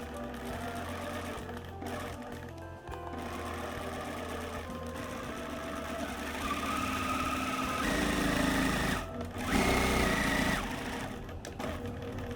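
Sewing machine running a dress side seam at half-inch allowance, a near, continuous motor hum with rhythmic needle clatter, briefly pausing and swelling in speed.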